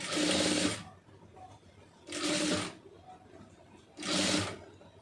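A sewing machine stitches pleated puff sleeves in three separate bursts of roughly a second each, with short quiet pauses between runs.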